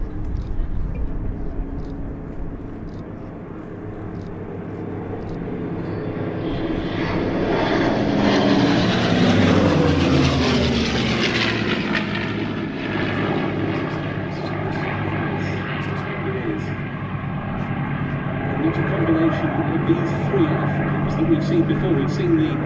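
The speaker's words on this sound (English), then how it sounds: "That's the Mustang in the 78 Fighter Group colours with the checkerboard marking." A P-51 Mustang propeller fighter in 78th Fighter Group colours makes a pass at an air display, its engine drone swelling loud and then fading with a clear pitch drop as it flies by.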